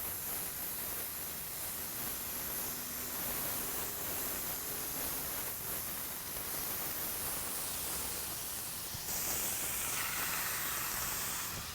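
Bacon sizzles on a Blackstone griddle over burners set to medium and medium high, a steady dense hiss that holds close and loud for the whole stretch, with no talking.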